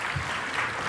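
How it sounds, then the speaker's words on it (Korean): A church congregation applauds in a brief, dense burst of clapping that fills the sanctuary for about a second, loud and continuous. "다시 한번 큰 박수로 격려합시다"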